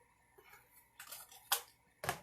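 Scissors snip through decorative deco mesh for a fall wreath, giving three short, crisp cuts roughly half a second apart, close and fairly quiet with no talking.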